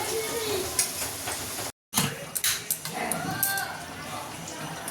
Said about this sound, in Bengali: আলুটা এখন হাফ ফ্রাই করেই রাখবো, ডিপ ফ্রাই করবো না